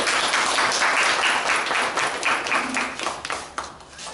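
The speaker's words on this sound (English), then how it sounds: "So please give a round of applause for her." A room of trainees applauds the trainer at an in-house training session, a moderate burst of clapping that swells and then thins out toward the end, heard at a middling distance.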